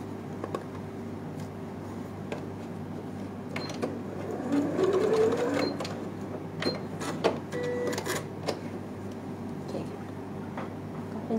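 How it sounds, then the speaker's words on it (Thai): A sewing machine stitches around patchwork fabric in short, uneven bursts with clicks and pauses, fairly close, as someone talks over the machine. "เย็บไปเรื่อยๆนะคะล้อมไปเรื่อยๆนะคะเย็บล้อมแล้วก็เย็บกดนะคะ"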